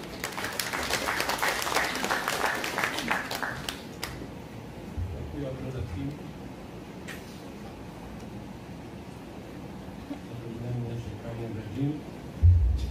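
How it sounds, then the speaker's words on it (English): A round of applause rises from the audience at a microcredit program launching ceremony, loud clapping at first that thins out and fades into scattered claps while a speaker talks over the room. "let us give a round of applause to the Senior Consultant of NCMF, Engineer Nazruddin Dianala"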